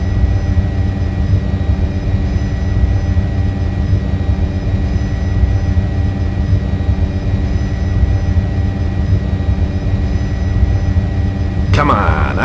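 An Apache helicopter hovers in a video game, a steady loud engine and rotor drone with layered humming tones and a deep rumbling low end, continuous and unchanging until a brief sharp burst near the end.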